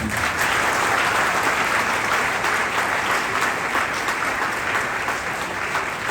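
Sustained applause from a large audience in an auditorium hall after a mallakhamb performance, a dense, even wash of clapping that carries on without letup, moderately loud and with no voices over it.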